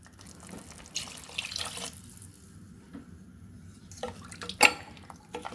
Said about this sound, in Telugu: 2 గ్లాసుల నీళ్ళు పోసుకుందాం.